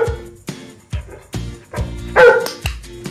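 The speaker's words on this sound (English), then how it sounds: "So if I want to now tell him to bark on command or speak, so I give him a little hand signal," A trained dog barks on command, giving a steady series of loud, close single barks about half a second apart, with no talking.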